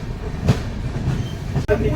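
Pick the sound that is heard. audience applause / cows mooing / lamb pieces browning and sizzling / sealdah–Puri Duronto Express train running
sealdah–Puri Duronto Express train running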